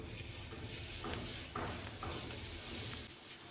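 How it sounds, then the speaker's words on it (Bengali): Battered cauliflower pakoras frying in soybean oil give a continuous, moderately loud sizzling hiss with soft bubbling and occasional faint pops, with no talking. "ব্যাটারের মধ্যে খুব ভালোভাবে গড়িয়ে নিয়ে আমি তেলের মধ্যে খুব সুন্দরভাবে পকোড়াগুলোকে একটা একটা করে ভেজে নিব"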